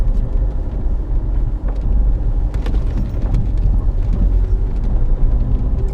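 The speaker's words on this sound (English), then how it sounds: "how impressive is it that a car that weighs over a ton can pull itself up a hill?" Car weighing over a ton climbing a hill slowly on Salisbury Plain, its engine giving a continuous low rumbling drone with rough, uneven texture, fairly close and steady with no talk.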